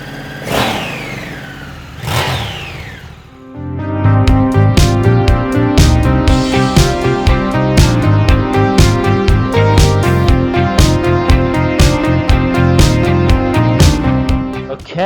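A Honda Africa Twin 1100 motorcycle engine, ridden off road, gives two quick rising revs, then settles into a steady, close, mid-pitched running note with rhythmic mechanical ticking.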